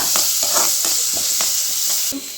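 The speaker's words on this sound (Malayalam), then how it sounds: "ഇനി അതിലേക്ക് ഞാൻ ഈ മുറിച്ച് വെച്ച് ഉള്ളി ഇടുകയാണ് ഉള്ളി ഒന്ന് നല്ലോണം ഫ്രൈ ആവൊന്നും വേണ്ട" Chopped onion sizzles loudly in a hot pan, a close, continuous hiss broken by regular scraping strokes of a spoon against the pan, with no voices.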